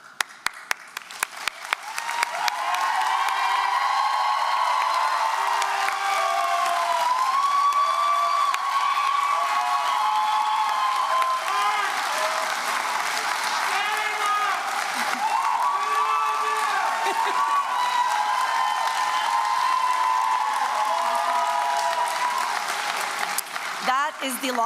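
Sustained audience applause for standing faculty at a spring college convocation, a dense, even roar of clapping with scattered cheers and whoops that runs unbroken for over twenty seconds.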